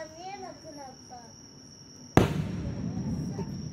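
A single loud firework bursts suddenly at a summer festival fireworks show in Japan after a stretch of quiet chatter and insects, followed by a rumbling, crackling tail as the blast echoes away.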